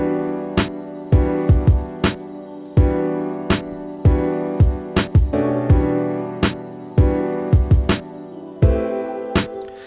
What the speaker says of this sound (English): I started out with a kick and a snare